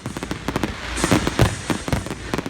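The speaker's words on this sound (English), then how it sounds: "On Independence Day here, there was lots of fireworks and explosions and such" Independence Day fireworks burst in the night sky over Chicago, a rapid run of loud, close booms and crackling pops that overlap and echo, with no speech.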